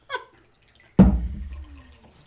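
Liquid is poured out of a container during a drinking game. A soft knock comes first, then a sudden splash that trails off into a fading trickle, close by and with no talk.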